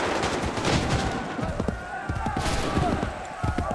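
Musket volley gunfire on an Assassin's Creed 3 battlefield, a dense crackling burst of many overlapping shots with low booms, loud and close, with shouted voices mixed in.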